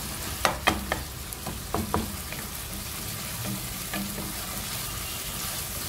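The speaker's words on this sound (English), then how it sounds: "just wait for the fire and keep frying." Steady low sizzle of minced beef frying in a pan, with a few sharp clicks and scrapes of a utensil stirring early on, continuous and fairly quiet.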